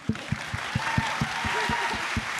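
Steady, evenly spaced claps about four per second at a summer program closing ceremony, a group clapping together in a regular beat over a low murmur of room noise.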